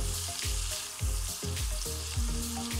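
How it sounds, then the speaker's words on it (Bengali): Mushrooms and prawns are fried in butter and stirred in a pan, giving a loud close sizzle broken by repeated spatula scrapes and knocks, with no one talking. "এবার মাশরুম আর চিংড়িগুলো ভালো করে মিক্স করে নিচ্ছি।"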